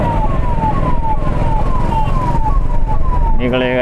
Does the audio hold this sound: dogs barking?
no